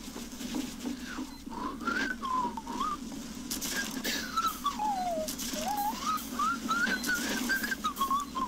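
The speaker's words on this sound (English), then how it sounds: "your whistling is worse than the actual song" A person whistles a song with wavering, sliding melodic phrases, moderately loud and close, over steady low background noise from a game session.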